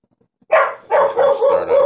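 A dog barks nearby, one sharp bark followed by a quick run of several rougher barks, loud and alone in a quiet room.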